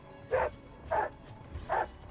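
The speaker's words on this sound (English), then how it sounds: "I love how my dog is right there in his face" Three evenly spaced, mid-pitched dog barks from the hound in the video game Rogue Trader, moderately close and fairly clear over a quiet low background.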